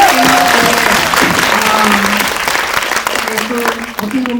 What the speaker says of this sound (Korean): 그 박수 한번.